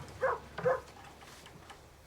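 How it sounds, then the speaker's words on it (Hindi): A dog barks twice in quick succession, short and moderately loud, followed by quiet background. "कुत्ता है फिर से, पागल कहीं का, भौंकता ही रहता है।"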